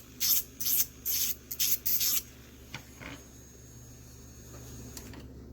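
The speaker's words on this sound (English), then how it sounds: "we're gonna drill the inside of it like this to take the shine off the inside." An electric nail drill buffs the inside of an acrylic nail in several short bursts of high whirring grind, close and distinct, then quiet.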